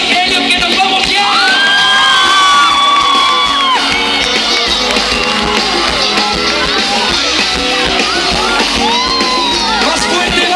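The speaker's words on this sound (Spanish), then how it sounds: "un fuerte aplauso para el viaje" A large pop concert crowd in Valencia roars and cheers continuously, loud and dense throughout, with shouts and whoops over music.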